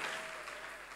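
Congregation applauding at a church service, a steady, dense wash of many hands clapping that holds at an even level through the whole brief moment, with no voices rising above it.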